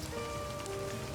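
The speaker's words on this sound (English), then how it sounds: "Raindrops splatter on the paper" Rain falling in the video game Livber: Smoke And Mirrors, a dense steady patter of drops on surfaces with a faint tonal hum underneath, continuous and even across the whole moment.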